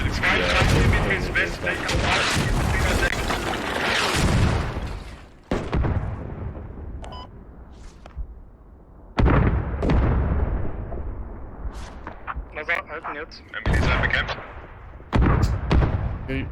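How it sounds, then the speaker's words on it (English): Tanks trading fire in the video game Squad on the Talil map: heavy booming cannon shots and explosions with long rumbling decays, some distant, under a caster's ongoing commentary. "the tanks are firing at each other, but they're not really getting done right now"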